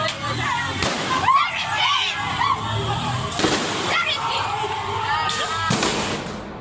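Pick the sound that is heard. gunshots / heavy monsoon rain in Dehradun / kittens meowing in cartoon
gunshots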